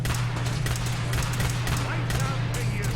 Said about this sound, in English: which gives me a really good excuse to use my laser pistol